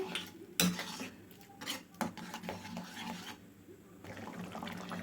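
A metal spoon scrapes and clinks against a pan while pumpkin halwa with jaggery is stirred over a high flame, in quiet, irregular strokes close by.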